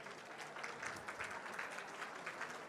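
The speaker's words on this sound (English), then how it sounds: "can I hear a round of applause from all of you first?" Audience at the opening ceremony of the 4th Hong Kong International Innovation and Technology Expo breaks into steady, sustained applause, a dense patter of many hands clapping at moderate distance with no voices over it.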